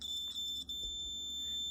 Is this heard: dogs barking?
no